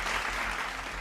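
Enthusiastic audience applause honoring the heroes of the Uttarkashi Silkyara tunnel rescue at an Indian of the Year awards ceremony, a steady wash of clapping held at an even level for the full second, with no voices.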